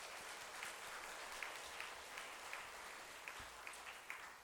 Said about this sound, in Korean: 우리 감사의 박수로 하나님께 영광 드리겠습니다